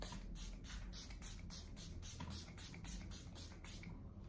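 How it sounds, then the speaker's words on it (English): Pixie Glow Mist face mist sprayed in a rapid series of about a dozen short, evenly spaced hissing puffs, close and fairly soft, with no talking. "another round of spraying my face with this Pixie Glow Mist"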